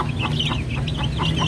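Month-old chicks clucking and peeping steadily while pecking at wet feed, several birds close by in a continuous busy chatter with no talk.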